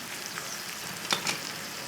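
Endive simmering in Espanol sauce in a covered pan gives a soft, steady low sizzle with a couple of faint bubbling pops, quiet and close, no talking.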